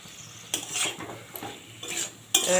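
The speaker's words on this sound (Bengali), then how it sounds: "ইঁচড় আলুটা দিয়েও আমি খুব ভালো করে কষিয়ে নেবো" Young jackfruit and fried potato pieces are stirred in a pan for a spicy Bengali jackfruit curry, giving a few short scraping stirs with a light sizzle of frying underneath, close and fairly quiet.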